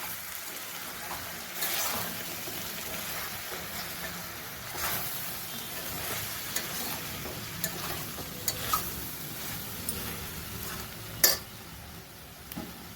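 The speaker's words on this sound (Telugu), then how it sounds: "ఇవన్నీ బాగా కలపాలి." A spoon stirs methi chicken curry ingredients, onions, turmeric and spice powder, sizzling in a pan. Soft scraping strokes recur over a low steady fry, with a few sharp clinks against the pan.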